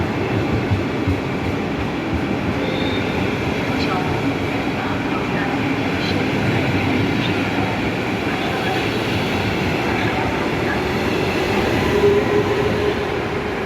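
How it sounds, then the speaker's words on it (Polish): A train rumbles steadily into Warszawa Zachodnia station at the end of its run, wheels clattering with faint squeals, a loud continuous roar throughout. "Pociąg kończy bieg."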